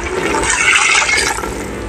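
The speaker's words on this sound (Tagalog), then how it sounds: "Ayan po, bali lalagyan na po natin ng tubig." Water is poured steadily into a cooking pot of vegetables for miki noodle soup, a close rushing, splashing stream lasting about two seconds.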